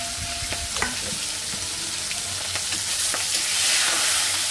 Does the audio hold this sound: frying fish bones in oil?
yes